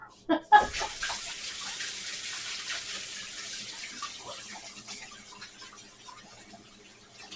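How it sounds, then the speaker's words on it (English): Water from a kitchen tap runs steadily over hands being washed during pumpkin cookie baking, a close, even rush that starts with a few brief clatters and slowly fades. "Okay, I'm gonna wash my hands."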